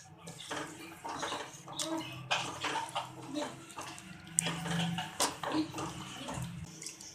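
Water poured into a karahi of white karahi masala with yogurt while cooking, a soft splashing and sizzling trickle with clinks of utensils, fairly quiet and close, with no talk.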